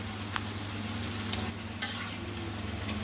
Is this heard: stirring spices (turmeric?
yes